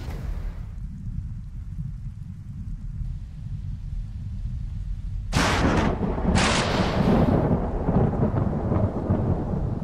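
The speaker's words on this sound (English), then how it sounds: "this thunder is loud as hell" Loud thunder in the video game Planetbase: a low rumble rolls under steady rain, then a sharp crack bursts out about halfway through and booms on heavily to the end, with no voices.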